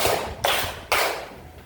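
A classroom group claps together on command, three sharp broadband claps spaced roughly half a second apart, each slowly tailing off in a reverberant room, with no talk over them.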